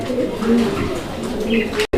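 A male pigeon coos near and loud in a low, repeated throaty rumble, ending abruptly.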